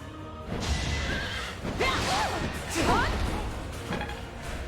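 A flying horse whinnies in a rising, wavering call amid Fire Emblem: Three Houses game sound effects and whooshes, with a brief crash and hoof-like clatter underneath.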